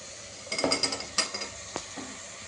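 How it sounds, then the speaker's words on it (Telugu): Chopped carrots, beans and tomato being stirred in a pan for khichdi: a quick run of clinking, scraping strokes against the metal, then a few softer scrapes fading out, close and with no talk. "కూరగాయ ముక్కలన్నీ వేసి చక్కగా కలుపుకుంటూ ఒక రెండు నిమిషాలు మగ్గించుకున్నామండి"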